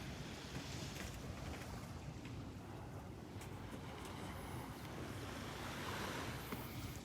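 Steady wash of ocean surf at a Florida beach, Delnor-Wiggins in Naples, with soft continuous breaking waves and some wind rumble on the microphone, faint and unbroken.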